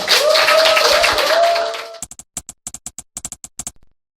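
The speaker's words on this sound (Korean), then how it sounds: "큰 박수로 맞이해 주시면 감사하겠습니다." At a political party members' workshop, a voice speaks briefly, then a small audience greets the party leader with a dozen or so separate, sharp hand claps spaced unevenly before falling silent.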